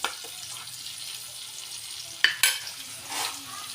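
Onions frying in annatto oil and butter give off a soft sizzle, broken by a couple of sharp clinks and scrapes of a utensil and a brief swell of hissing.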